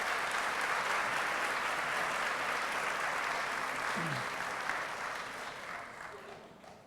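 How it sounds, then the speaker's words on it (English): Graduation crowd at the Scavo High School Class of 2014 commencement gives a steady round of applause, broad and continuous, gradually thinning and fading toward the end. "If we can give them a round of applause"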